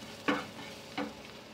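Two soft scraping strokes of a spoon stirring chili, coriander and turmeric powder into food in a pan, fairly faint over a steady low background hiss.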